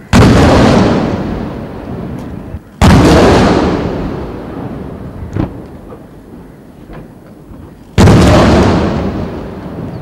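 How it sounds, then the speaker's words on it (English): Artillery guns firing a 21-gun salute for a president at a ceremony, three loud booming blasts spaced several seconds apart, each with a long rolling decay and a faint distant thud between. "A 21-gun salute was then presented to the President."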